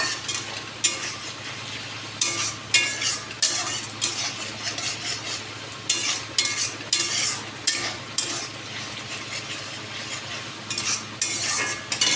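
Pangas fish frying in oil in a curry pan, stirred with a metal spoon: a continuous sizzle punctuated by frequent bright scraping strokes and light clinks, close and steady, with no one talking.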